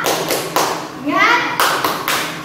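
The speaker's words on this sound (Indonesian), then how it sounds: "Tepuk semangat" A teacher leads a second-grade class in the "tepuk semangat" cheer, a few loud, evenly spaced claps alternating with a chanting voice close by.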